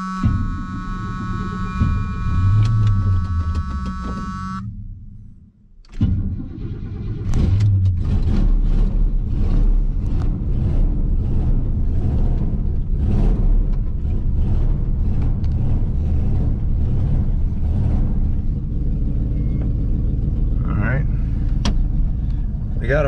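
A Chevrolet Squarebody C30 truck with dual fuel tanks cranks after a hard start, then settles into a loud, steady engine drone as it drives away, heard from inside the cab with a voice speaking briefly over it.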